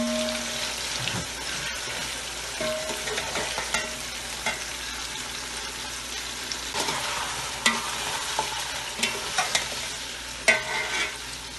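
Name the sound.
chicken being fried in a pan for biryani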